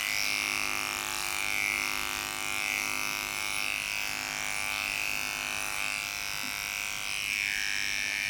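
Electric dog clippers fitted with a snap-on comb run in a steady, close, continuous buzz while trimming a Moodle's legs, with no talking.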